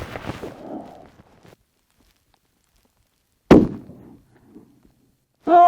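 Christensen Arms Ridgeline FFT lightweight rifle fires a single sharp, loud shot at a rock slab outdoors, with a faint rustle before it and a brief tail after.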